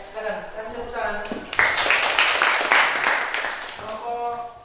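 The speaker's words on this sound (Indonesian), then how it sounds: "Ya, silakan kasih tepuk tangan." Classroom students break into applause for about three seconds, a dense burst of clapping that follows a spoken request and fades as speech resumes.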